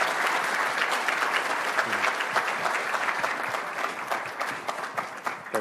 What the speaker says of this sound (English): let's give a big round of applause to Karel